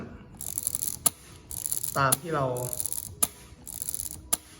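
An Olympus Auto Eye film camera fires its shutter four times in quick succession, each crisp click followed by a whirring ratchet buzz, close and clear, with someone briefly talking.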